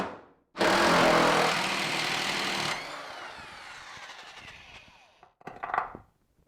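Impact wrench hammering a non-impact T55 socket on a Ford Ranger 4x4: a loud, dense burst of rattling impacts for about two seconds, easing into a quieter whir that trails off, then a short sharp final rattle.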